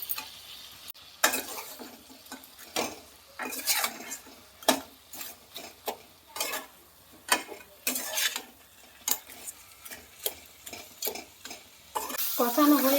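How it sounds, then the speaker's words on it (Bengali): Fried fish heads being sautéed in a pan for moong dal, with repeated rhythmic spatula scrapes and knocks over a soft, steady sizzle, close and clear, no one speaking. "ভেজে রাখা মাথাগুলো দিয়ে ভালো করে কষাবো"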